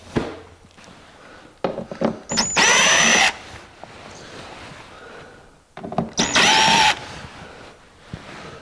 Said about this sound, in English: I don't really like using impact on screws that are in plastic